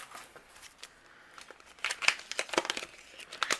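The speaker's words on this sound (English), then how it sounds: "while we're die cutting, let's die cut out our" Cardstock run through a die-cutting machine to cut out a paper flower, heard as soft crinkling and a series of brisk papery crackles that grow louder toward the end, close and alone.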